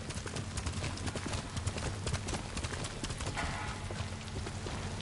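A horse gallops in Ghost of Tsushima, a fast, steady clip-clop of hooves close by over a continuous game soundscape.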